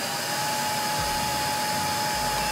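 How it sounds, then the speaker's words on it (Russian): The dust vacuum on a Medipro pedicure machine runs with a steady, even whirring hiss and a faint high whine, continuous and close, with no talk. "Это кнопка включения-выключения пылесоса."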